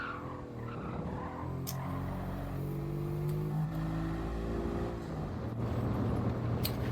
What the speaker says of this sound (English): That turbo sounds really nice.